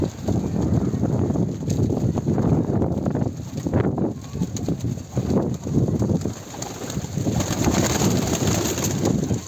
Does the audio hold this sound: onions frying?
no